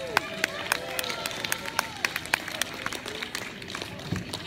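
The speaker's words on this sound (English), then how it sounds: "Round of applause for Don." Audience applause at an outdoor soul band concert in Norwood, NY, sharp individual claps over crowd murmur, scattered and moderately close, with a few voices mixed in.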